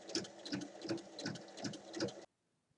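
A sewing machine stitching through a bag seam, pinned across the middle, runs in a steady fast rhythmic chatter of needle strokes for about two seconds, then stops into silence.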